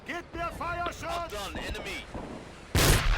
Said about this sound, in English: Cook that grenade and toss.